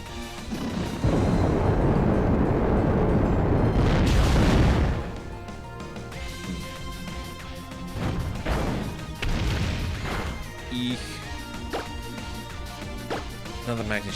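A video game's Magnitude ground-shaking attack erupts in a long, loud rumbling blast, followed by several sharp crashing booms and bursts over game music.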